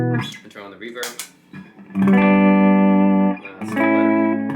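An electric guitar plays through a Supro 1968RK Keeley Custom 12 amp with reverb on, a few picked notes followed by long sustained chords ringing out with a reverberant tail, loud and close.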